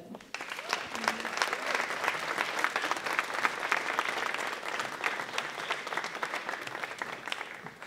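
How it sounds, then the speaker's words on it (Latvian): Audience applause at a children's concert in a hall, a dense steady clatter of many clapping hands that continues at an even level throughout. "Sagaidām ar aplausiem"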